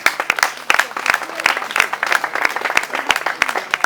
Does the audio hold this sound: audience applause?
yes